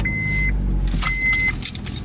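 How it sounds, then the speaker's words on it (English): A car's ignition is turned with a screwdriver jammed in where the key goes. Two electronic chime tones sound close up, then a jangle of metal and the engine catching and settling into a low idle. "And your car's running."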